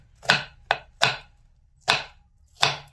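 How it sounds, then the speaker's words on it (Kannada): A knife chops something into small pieces on a board: five sharp, close knocks in an uneven rhythm with brief pauses, and no other sound. "ನಾವು ಚಿಕ್ಕ ಚಿಕ್ಕ ಪೀಸ್ ಕಟ್ ಮಾಡ್ಕೋಬೇಕು ನೋಡಿ."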